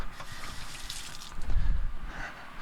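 Water from a kitchen tap runs over a dropped lime as it is rinsed, a close splashing wash that swells briefly in the middle, with no talk.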